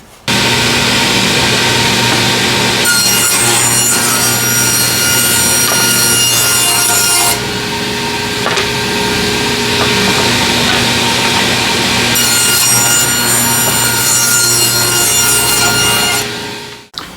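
A table saw rips half-inch-thick wood scraps into 1.5-inch strips: a loud, close whine of the blade biting through the wood, with the pitch changing as each cut passes.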